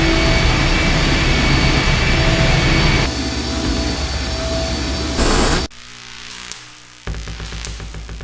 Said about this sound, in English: The engine's starting up again.